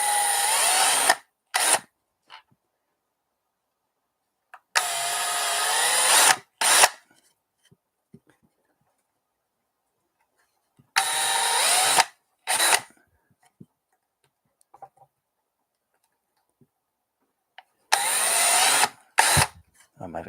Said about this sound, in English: let's keep drilling some holes